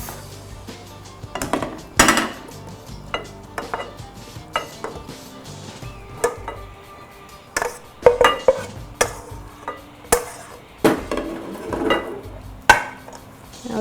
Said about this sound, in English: Now we can grab a dish and plate the rice.